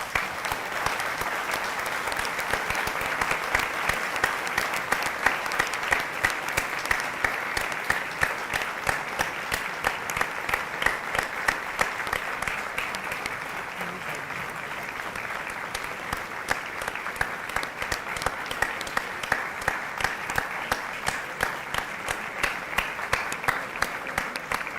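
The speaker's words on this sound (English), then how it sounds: "I request everyone to kindly rise and give them a huge round of applause" Sustained applause from a standing audience at an IIM Lucknow ceremony, as dignitaries exit, steady dense clapping throughout at moderate level without talk.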